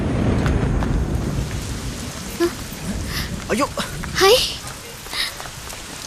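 A heavy rain downpour with thunder in a Tamil movie scene, loud steady rain with rolling thunder rumbles, while voices call out briefly over it.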